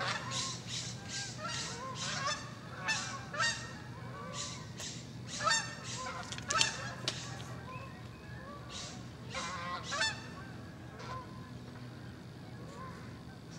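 A morning flock of geese flies over, honking repeatedly in overlapping calls that sound fairly distant and continue for over ten seconds against faint outdoor background.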